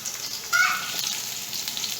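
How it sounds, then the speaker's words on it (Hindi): Garlic ginger paste frying with onions in a pan, a steady hiss of sizzling with a brief louder burst near the start, close and continuous. "इस तरह से आपने लहसुन अदरक का पेस्ट शामिल करना है और इसको 1 मिनट तक पकाना है।"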